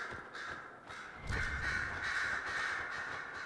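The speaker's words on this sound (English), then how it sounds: "Sorry, I can't hear you over the birds." Crows caw repeatedly in a Dragon Age: Inquisition scene, a string of loud, harsh calls in uneven rhythm over a steady ambient background, with no speech.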